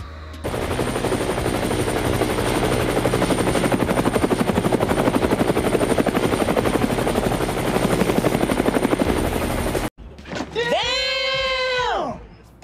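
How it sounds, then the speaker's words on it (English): Loud, continuous helicopter rotor thumping sound effect close by, added over drone footage, then a brief cut and a sweeping whine as the engine sound shifts. "Look when I add like helicopter effects."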